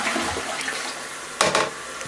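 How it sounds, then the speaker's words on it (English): A vacuum toilet in a bathroom flushed with only a little water, a steady rushing wash with a short sharper burst near the end, close and alone. "because you can have the amount of water for the pee, you can kind of flush it a little bit."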